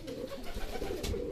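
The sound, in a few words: racing pigeons cooing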